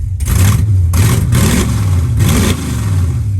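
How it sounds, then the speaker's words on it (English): A car engine that refuses to idle is held on the gas, its loud, close roar surging and dipping in rough waves with no break. "This is me with my foot on the gas. For whatever reason, it won't idle"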